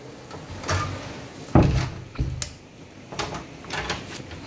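A door is handled up close, with a solid thump and several knocks and rattles at irregular intervals, no talking.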